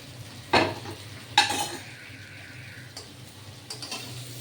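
Small mourala fish frying in a little oil with Katwa stalks for a Bengali chorchori, two sharp stirring scrapes against the pan standing out over a soft, steady background hum, with lighter clinks later.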